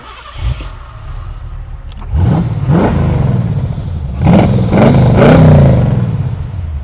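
A 1928 Ford Model T bucket hot rod engine cranks, catches and starts, then revs loudly in repeated swelling pulls with a rough mechanical clatter, close and alone.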